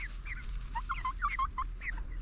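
Chickens and a rooster on a farm cluck and murmur softly in quick, chattering bursts over a low, steady background hum.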